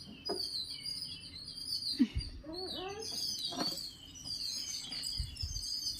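Sparrows chirp in short, bright bursts, a quick cluster standing out midway against a steady outdoor background, with a few scattered tweets before and after at moderate volume.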